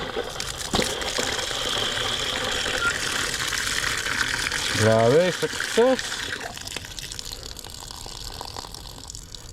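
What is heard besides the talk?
water gushing from newly replaced sillcock valve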